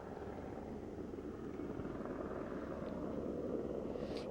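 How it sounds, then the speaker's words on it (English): A news helicopter hovers over a flood rescue, its steady, distant rotor thrum a continuous low drone. "If you can go back up to that helicopter, Melanie."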